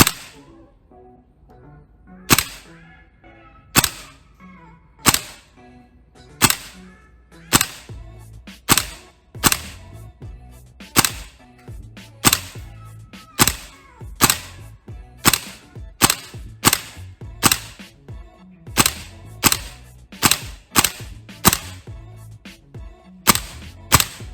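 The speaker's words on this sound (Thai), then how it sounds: "ในระยะประมาณ 10 เมตรนะครับก็ เดี๋ยวเราจะลองยิงเซมพอยต์ hit" A VFC M110 SASS gas-powered airsoft rifle fires about twenty sharp shots at a target roughly 10 to 15 metres away, each crack loud and close with irregular gaps of one to two seconds between them, and no talking.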